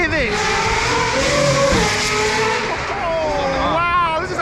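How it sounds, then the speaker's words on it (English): Supercars rev and accelerate near the start line at the Goodwood Festival of Speed, loud rising and falling engine notes overlapping with crowd noise and voices. "The sound from these cars are amazing."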